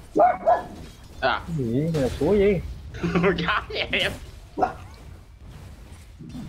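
A dog barks in a few short bursts among people talking over a game session, the barks fairly close and mixed in with the voices.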